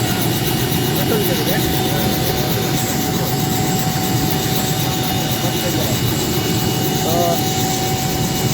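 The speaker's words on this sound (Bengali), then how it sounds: "বিশেষভাবে যে হেলিকপ্টার এখানে ল্যান্ড করছে" A loud, steady helicopter engine roar fills the whole stretch without letting up as it lands on Nijhum Dwip island before a large crowd, while a person talks underneath it.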